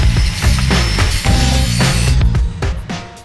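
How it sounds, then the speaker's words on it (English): An angle grinder trims the inner wheel arches of a show car, giving a loud, continuous rough grinding and rasping with uneven surges, alone and close. "giving the inner wheel arches a little love with an angle grinder"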